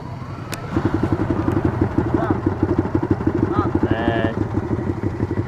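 A motorcycle engine runs close by with a steady, clattering pulse that holds loud for several seconds, with a few brief tonal squeaks riding over it.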